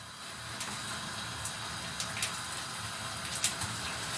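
A constant soft hiss with occasional faint crackles and pops, like chebureki pastries made with sparkling-water dough sizzling in hot oil, steady and without voices.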